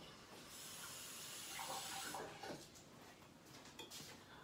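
Water runs from a kitchen tap as a cutting board is rinsed, a soft continuous hiss and splash with brief shifts where the board moves under the stream, quiet and close.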